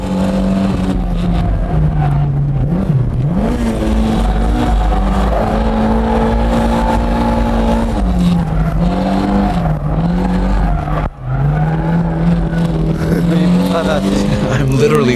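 Car engine roaring continuously at full throttle through a drift on M7 tires, a loud sustained rev with pitch rising and falling as it accelerates, with someone talking over it.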